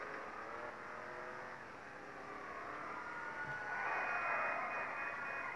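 Dominator muscle car engine in GTA 5 revving and accelerating with rising, whining pitch sweeps, a steady loud drone that swells toward the end, with no talking.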